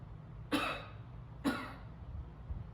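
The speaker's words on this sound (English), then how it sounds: "give me a cough to clear up your airways first." A patient in a medical breathing examination gives two distinct coughs about a second apart to clear the airways, close and fairly loud against a quiet room, with no talking.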